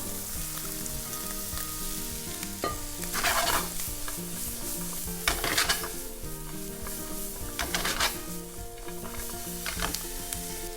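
Sundae and gopchang are stir-fried with vegetables in a pan, giving a constant sizzle broken by repeated scraping bursts from stirring, over a steady tonal background.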